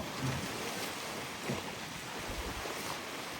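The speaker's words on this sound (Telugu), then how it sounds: "సముద్రము" Sea waves wash in a constant broad roar by the shore near the Kuwait Towers, mixed with gusty wind buffeting the microphone, steady and unbroken with no voices.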